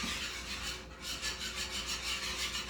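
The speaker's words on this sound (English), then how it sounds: "you have to whisk it really well so that it gets all incorporated" Whisking flour into a cream sauce for shrimp alfredo, a continuous fast scraping and rubbing of the whisk against the pan, close and steady, with no talking.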